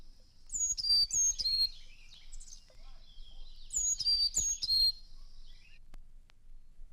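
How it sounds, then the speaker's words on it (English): A Carolina chickadee sings two clear bursts of high, thin whistled notes, each a short run of slurred tones, separated by a quiet pause, with faint low rumbling beneath. "A Carolina chickadee uses several high-pitched notes in different songs."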